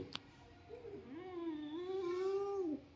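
A house cat gives one long, drawn-out meow up close, rising and then holding steady for about two seconds before stopping, with a brief click just before it and no voices.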